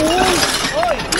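A discarded glass item breaks while someone sorts through thrown-away goods, giving a brief sharp shatter with light clinks that rings under nearby voices talking.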